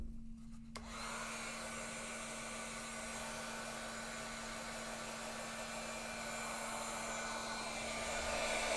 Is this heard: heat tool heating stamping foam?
yes